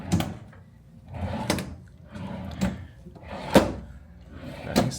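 Large drawers in a hotel room slide open and shut repeatedly in slow alternating wooden rumbles and thumps, close by, about five strokes with no talking.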